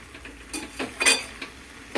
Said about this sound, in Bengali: ঢাকাটা খুলে আরও ভালো করে নেড়ে নিচ্ছি।